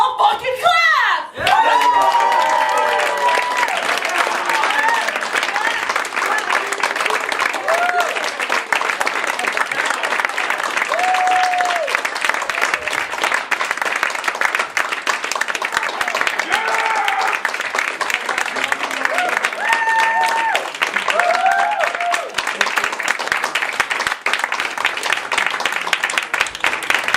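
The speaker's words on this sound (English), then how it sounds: "let's all fucking clap!" An audience at a live show breaks into sustained applause, a dense, loud wash of clapping that keeps going for nearly half a minute, with scattered whoops and cheers rising out of the crowd.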